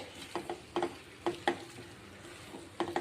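Spice being stirred into a potato and drumstick curry in a pan, with several short scraping strokes of a spoon against the pot over a soft sizzle, close by and fairly quiet.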